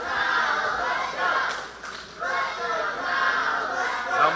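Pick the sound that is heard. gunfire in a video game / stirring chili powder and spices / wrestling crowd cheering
wrestling crowd cheering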